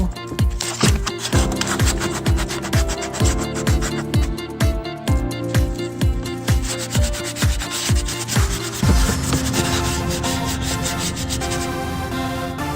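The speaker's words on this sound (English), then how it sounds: "I'm going to sand it a little bit, the 400, and then switch to 800 grade," Hand sanding of a Volvo fuel cap with 400-grit sandpaper: brisk back-and-forth rubbing strokes in a regular rhythm, close and fairly loud, shifting to a smoother continuous scrape near the end.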